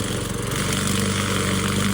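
A brush mower runs with a steady, loud, throbbing engine drone close by, unbroken for the whole stretch with no voices.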